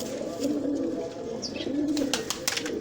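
Male pigeons of old-lineage Prince Kamgar and Imam Din breeds coo in slow repeated rolling phrases, moderately close but soft, with a few faint background clicks.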